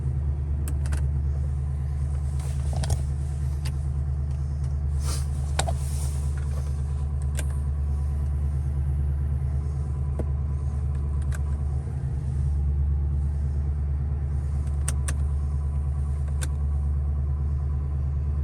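A Ford Crown Victoria engine with battery issues idling steadily with a low, constant rumble, joined by faint occasional clicks and ticks.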